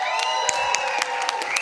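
A concert crowd applauds and cheers for the singer, a steady wash of clapping with whistles and whoops carrying over it, fairly loud and continuous.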